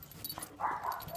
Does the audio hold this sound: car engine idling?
no